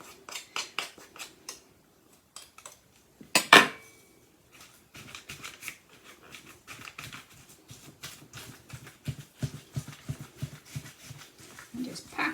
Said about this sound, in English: I want a knife to scrape that off my spoon.